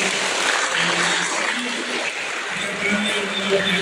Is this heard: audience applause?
yes